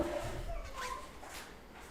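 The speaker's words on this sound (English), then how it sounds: "I'm just going to let the dog in." A dog whimpers with a few soft, high yips, somewhat distant beneath a muffled background.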